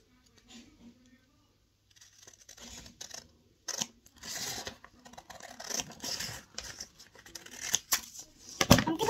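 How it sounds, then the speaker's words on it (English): Several crisp snipping and crunching cuts build in strength toward the end, close by, with faint rustling between them. "Now you'll need the scissors. And you'll cut her in the middle."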